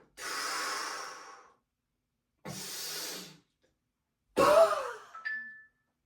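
A breathing-exercise exhale, voiced as a strong breath out, comes three times at close range: two long airy blows, then a sharper, more strained third with a moaning edge, each separated by silence.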